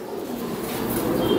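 Opal pigeon chick cooing in a loft, a short soft coo amid the continuous murmuring of many pigeons nearby.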